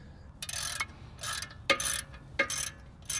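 A ratchet wrench tightens wheel bolts, giving several short bursts of rapid metallic clicking with brief gaps between strokes, close up and fairly loud, with no talking.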